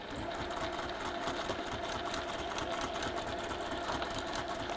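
A sewing machine stitches fabric in one continuous fast whirring run, close and steady throughout with no pauses or talking.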